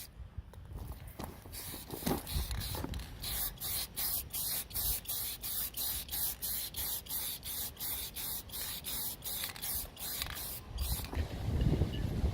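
A spray can applies Rust-Oleum lens tint to a car tail light lens in a long run of short, evenly spaced hissing bursts from even back-and-forth strokes, close and clear, with a faint voice at the start.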